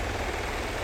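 A surveillance drone hovers in the Ghost Recon: Future Soldier video game, a steady whirring rotor hum held close and even for a brief moment.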